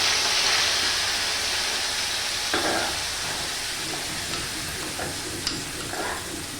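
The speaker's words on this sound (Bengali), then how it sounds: "তেলটা গরম হয়ে গেছে, আমি এবার লাউয়ের খোসা বাটা, নুন, হলুদ, শুকনো লঙ্কা রসুন ভেজে যে বেটেছি সেটা সব একসাথে দিয়ে দিলাম" Gourd peel paste with salt, turmeric and fried dried chilli and garlic sizzling steadily in hot oil, a loud continuous fry with a few soft stirring scrapes and taps over it.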